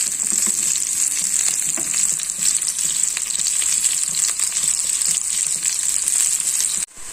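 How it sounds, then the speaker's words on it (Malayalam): Eggplant and other chutney ingredients fry steadily in a hot pan, a continuous bright sizzle with faint crackles and stirring scrapes, close and fairly loud throughout with no talking, briefly dipping near the end. "നമുക്ക് ഫ്രൈ ചെയ്തെടുക്കാം"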